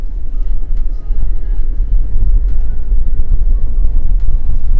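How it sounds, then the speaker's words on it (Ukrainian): Low, steady engine rumble from inside a Ford Transit Van, with faint intermittent rattles and knocks from the cargo bay over the drone. "Ви можете почути звук двигуна, ну, таке маленьке колотання з боку вантажного відсіку"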